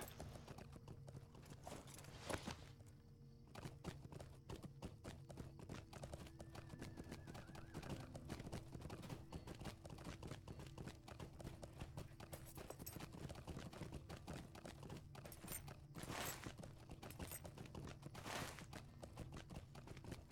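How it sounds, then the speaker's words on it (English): Continuous rhythmic hoofbeats of a galloping horse in the video game Lord of the Rings Online, even and sustained, with occasional brief louder noises and faint background ambience throughout. "Get on my horse and ride to South."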